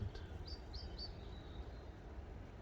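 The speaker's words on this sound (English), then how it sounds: "Just the evening song of the birds." A few faint, high evening birdsong chirps in the distance over a quiet, low rumbling outdoor background at a riverside wild camp.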